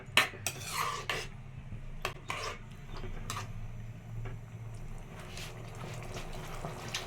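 A utensil stirs thickening sauce made with salt, sugar, sauces, water and arrowroot in a pan, giving a run of light scraping clinks and taps over a low kitchen hum.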